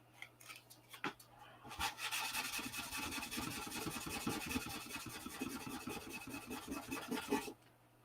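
Steady, continuous rasping of sandpaper on a balsa P-47 model airplane, close and fairly loud, with rhythmic back-and-forth strokes running about six seconds before stopping abruptly, a few scrapes and knocks at the start.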